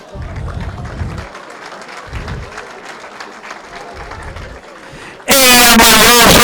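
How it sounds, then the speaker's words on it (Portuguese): An audience at a real estate talk in Brazil claps at a moderate level for about five seconds, then a sudden, very loud horn-like blast cuts in and blares to the end. "22 palmas para ela!"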